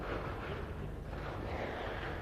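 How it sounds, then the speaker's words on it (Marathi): Firecrackers set off at a 1998 Dussehra rally, heard as a dense, continuous crackling roar of many bursts with no pauses and no voices. "हे उरलेले फटाके महापौरांचे आहेत, तेवढे वाजून द्या"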